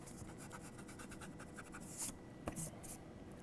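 An eraser scrubs across a paper drawing in a series of soft, rapid scratchy strokes, with a couple of brief louder rubs and small taps, quiet and close.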